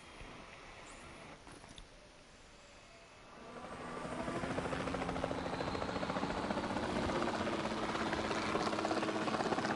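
A helicopter in a park-building video game, faint at first, then its rotor chop swells into a steady, close, continuous whirring drone.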